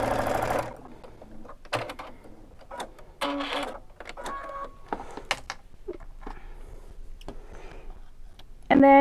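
A sewing machine runs in several short bursts while stitching a curved fabric seam, with pauses and small clicks between bursts and a louder whir at the very end.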